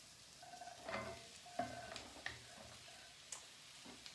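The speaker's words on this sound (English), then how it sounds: "It's frying." Soft sizzle of carrots frying in a pan with a few sharp clicks and scrapes of stirring, fairly quiet, no talking.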